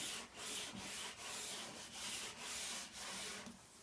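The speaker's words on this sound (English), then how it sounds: "you're going to then cork in your wax. Use just light pressure on this all the way up and down." Cork rubbing kick wax onto a cross-country ski with light pressure, soft repeated rubbing strokes in a steady back-and-forth rhythm, faint and close, with no voices.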